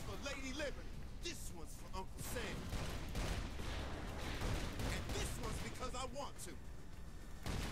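Saints Row 4 gunfire rattles in dense, continuous bursts across the whole stretch, loud and busy in the game's alien-invasion combat, with people talking excitedly over the shooting throughout.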